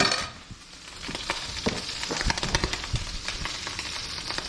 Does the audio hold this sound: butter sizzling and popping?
yes